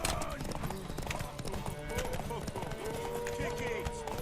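Rapid hoofbeats of a galloping horse in The Witcher 3: Wild Hunt mixed with game sounds and a voice talking over them.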